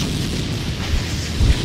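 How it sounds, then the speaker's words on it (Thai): Five nuclear bombs detonate at once inside a Backrooms-style game room, heard as a loud, sustained deep rumble with a heavy low thump near the end and no voices. "เราจะจุดระเบิดนิวเคลียร์5ลูกพร้อมกันดูซิมันจะระเบิดเถื่อนขนาดไหน"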